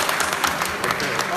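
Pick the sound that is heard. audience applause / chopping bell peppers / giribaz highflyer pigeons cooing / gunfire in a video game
audience applause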